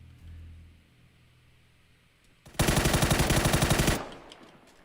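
In the PUBG video game, a loud automatic burst of rapid, evenly spaced gunshots lasts about a second and a half and then stops abruptly, after a quieter stretch of low rumble.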